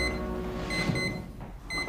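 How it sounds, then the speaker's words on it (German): A steady electronic beeping tone repeats in short bursts, fairly faint against a quiet room, with no one speaking. "da piepst was"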